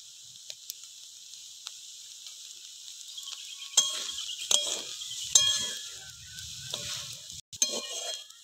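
Small shrimp fry in a pan with a steady, soft high sizzle, broken by occasional sharp clicks and scrapes of stirring close by.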